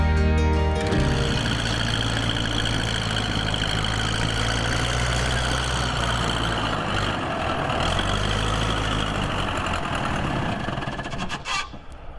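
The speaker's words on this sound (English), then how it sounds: "I'm going to go use the loader right now and get those done" A John Deere tractor loader's engine runs steadily and loud throughout, a continuous low idle-like drone with a rough knocking texture, apparently with a clogged fuel filter, easing off slightly near the end.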